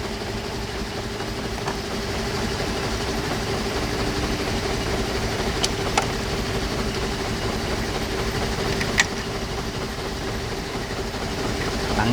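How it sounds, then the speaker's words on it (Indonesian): Car engine idling steadily for a brake stiffness check, a continuous close low rumble with a couple of faint clicks and no talk. "Tuh ya, itu kan udah hidup mesinnya."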